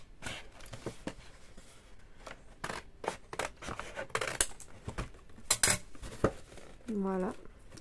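Scissors snip paper for a small Christmas gift pouch, a scattered series of short crisp cuts and handling rustles, close and fairly quiet with no talk.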